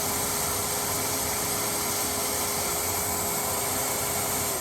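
A Tineco Pure ONE Station 5 stick vacuum runs continuously with a steady whine and whoosh of suction as it picks up pistachios, loud and close, with no voices.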